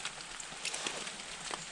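Rain falls outside a hut in winter, a soft, even hiss with scattered close drips and taps on the surface, quiet and continuous with no voices.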